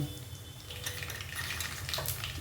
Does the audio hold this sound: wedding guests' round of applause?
no